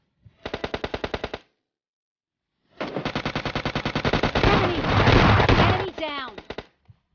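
Automatic gunfire in the mobile game PUBG Mobile Lite: a short burst of rapid rounds, a pause, then a longer sustained volley thickening into dense overlapping fire before tapering off, loud and close.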